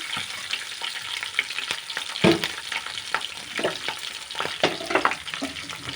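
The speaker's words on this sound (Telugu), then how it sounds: "పచ్చిమిర్చి వేస్తున్నాను అది రెండు పచ్చిమిర్చి అయితే సరిపోతుంది" Green chillies, two of them, hitting hot oil in a pan while cooking a stuffed brinjal curry, giving a steady close sizzle with crackly bursts and stirring clatter, with no talking.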